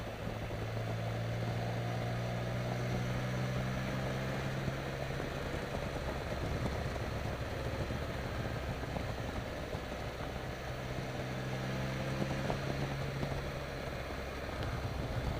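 Can-Am Spyder three-wheeled motorcycle engine-braking on a downhill ride after a downshift, a steady close drone of engine and wind rumble with faint tonal whine, continuous and unbroken.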